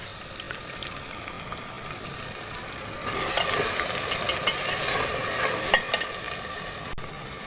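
Moong daal is stirred in a pot after turmeric and salt are added. A soft bubbling simmer comes first, then louder, busier sizzling and stirring with scattered clicks and one sharp knock near the end, with no talking.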